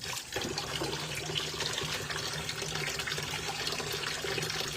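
Dishes being washed under a running tap, with steady splashing water close by and faint clinks mixed into the flow.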